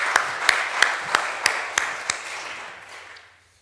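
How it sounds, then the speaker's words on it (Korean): A few sharp, evenly spaced claps ring out in a church during a Sunday worship service, about seven distinct strikes in a reverberant room before fading into quiet. "이분들 격려하는 마음으로 다시 한번 박수 한번 드리겠습니다."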